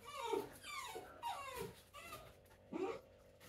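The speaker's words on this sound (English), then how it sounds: "dog is out next door." A neighbour's dog next door whimpers in a run of high, wavering whines and short yips, each rising and falling, heard at moderate distance with no talking over it.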